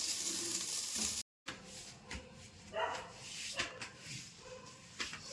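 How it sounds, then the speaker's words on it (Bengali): Beetroot, carrot, potato and beans frying together in a pan give a steady, close hiss of sizzling with a brief dropout near the start and occasional soft stirring clatter. "ওই জন্য বিট গাজর আলু বিনস সব ভাজছি।"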